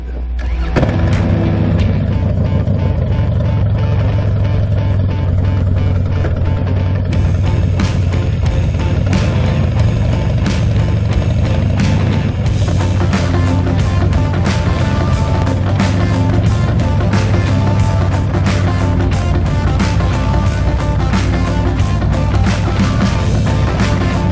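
A Harley-Davidson Softail motorcycle starts up and rides on the road, its loud rumbling engine idling and then revving steadily and up close for the whole stretch.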